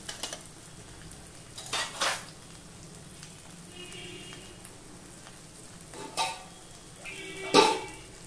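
Cumin and chili powder fry in a pan under a faint, steady sizzle, punctuated by several sharp scrapes and clinks of a spoon stirring against the metal.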